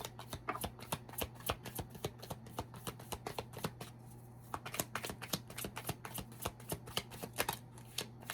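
Tarot cards being shuffled and drawn, a steady run of crisp riffling flutters and soft slaps close by, repeating through the whole stretch over a low constant hum.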